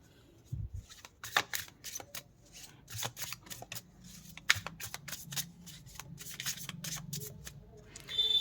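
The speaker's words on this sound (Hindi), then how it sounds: "तो चलिए कार्ड्स को शफल करते हैं" Close, quiet shuffling of tarot cards for a reading, made up of quick papery riffles and flicks in irregular bursts, with a soft thump near the start and no speech.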